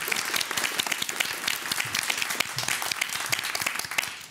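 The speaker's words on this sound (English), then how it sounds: "Applause." A studio audience on a quiz show claps in steady, dense applause, close and sustained from start to finish.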